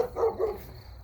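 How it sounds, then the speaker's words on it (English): A dog locked up somewhere gives a couple of short, fairly close barks, followed by a quieter tail of sound. "Like that dog."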